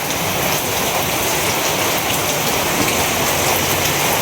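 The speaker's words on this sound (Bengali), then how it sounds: "বৃষ্টি চলছেই" Heavy rain falls steadily in a Bangladeshi village, a dense, even hiss that holds unbroken and loud for the whole stretch with no pauses or voices.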